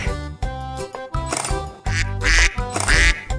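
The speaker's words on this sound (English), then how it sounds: "Duck." An animal toy lets out loud, close electronic duck quacks, several rapid nasal calls in a row over a bouncy synthetic backing.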